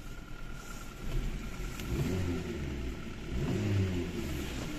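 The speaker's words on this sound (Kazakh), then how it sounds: "Мотор жагы жакшы иштеп турат." A 2018 Skoda Octavia 1.6 automatic's engine idles nearby with a low steady rumble, rising slightly in a couple of gentle revs.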